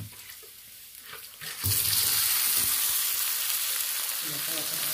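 Fish dropped into hot oil for a spicy sauté sets off a sudden, loud, steady sizzle that holds after a quieter opening moment, with faint kitchen clatter underneath.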